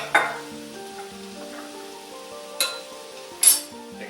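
Chili ingredients sizzle softly in a pot over a steady low hiss, with a few sharp clinks and scrapes as a utensil stirs them.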